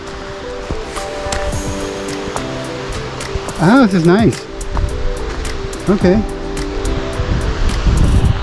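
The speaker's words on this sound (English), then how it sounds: "Maybe we can see the waterfall from here because I can hear it." A waterfall on the Fiery Gizzard Trail in a wooded area gives off a steady rushing wash of water. A hiker speaks briefly close by over the noise.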